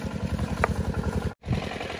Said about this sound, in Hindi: फिलहाल अभी इंजन चल रहा है